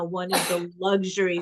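A single sharp sneeze bursts out between stretches of close conversational speech.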